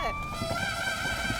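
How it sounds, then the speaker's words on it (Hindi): A siren wails from a radio, its rising and sustained electronic tone holding steady across the moment at moderate loudness, with a faint thump at the end. "एफएम रेडियो में आग लग गई है, इसलिए सायरन की आवाज सुनाई दे रही है"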